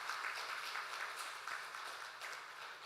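Soft, steady applause from a church congregation honoring newly elected council members at a Sunday worship service, a quiet, distant wash of clapping with no voices.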